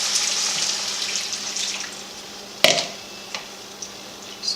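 Water poured into a pan holding tomato paste and sautéed mushrooms for a chicken rotini dish, a soft, steady splashing trickle with a few sharper clinks and drips near the end.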